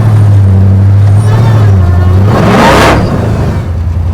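A Hellcat-swapped 1972 Dodge Demon pulls away with a loud, deep engine rumble that climbs as it revs, then fades into a rushing sweep as the car drives off.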